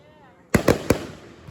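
Fireworks go off in three sharp booms in quick succession, loud and close, followed by a fading rumble and a faint later pop; a voice is heard faintly in the background.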